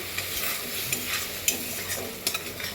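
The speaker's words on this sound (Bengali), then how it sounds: "আবার একটু কষিয়ে নিই ভালো করে, সুন্দর করে।" Chhana and potol curry, salted, being stir-fried in a pan, with a steady close sizzle broken by a few sharp scraping stirs of the spoon. No one speaks.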